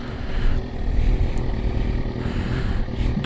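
A 2000 Kawasaki ZX6 sport bike's engine idles steadily after being restarted, a close, continuous low rumble with an even pulse and no talk over it.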